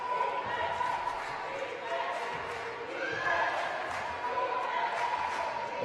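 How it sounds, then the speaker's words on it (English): Moderate crowd cheering for South Africa during a men's wheelchair basketball semi-final against Morocco at the 2020 IWBF Afro Paralympic Qualifiers, with rising shouts and swells over arena noise and occasional ball bounces. "we can see the crowd starting to cheer South Africa now"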